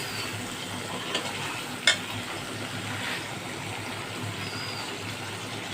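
Ground spice paste frying and being stirred in a pan for a fish and taro curry: an even close sizzle with soft stirring and one sharp utensil clink partway through.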